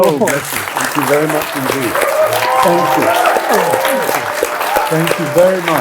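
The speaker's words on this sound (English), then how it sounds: "I think you deserve a round of applause" An audience at a Marlowe Society interview and Q&A applauds steadily in a sustained wash of clapping, while a man repeatedly thanks the crowd over it.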